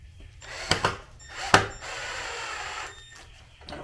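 A power drill fitted with a number 2 bit drives a screw while building a tiny house loft ladder, with two short bursts followed by a longer steady whir that skips, close by with no talking.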